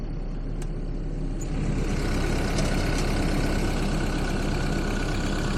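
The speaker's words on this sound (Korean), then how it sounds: "엔진 소리도 지금 들어보시면 엄청 조용하다는 게 느껴지실 거예요." A Kobelco SK75SR-7 excavator's Yanmar diesel engine idles close by, a low, even rumble with a continuous mid-range hum that holds constant throughout.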